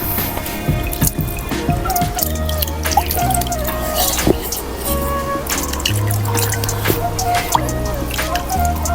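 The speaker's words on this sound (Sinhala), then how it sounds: "මේ වංගෙඩියේ හොදලා ඒකේ වතුර ටිකත් අපි අර කලින් හදාගත්ත පොල් මසාලකටම දා ගන්න ඕනේ" Water from rinsing a mortar splashes and trickles with irregular drips and pours, close by, over a constant low musical hum in the background.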